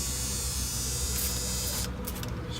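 Leak-check spray hisses steadily from an aerosol can onto the air fittings of a truck's ABS modulator, a continuous close spray under a low hum that briefly breaks off near the end.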